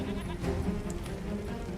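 Sheep bleating in the fantasy role-playing game Divinity 2, set in Rivellon, a steady nasal bleat sustained across the short stretch over a low game backdrop, with no talking.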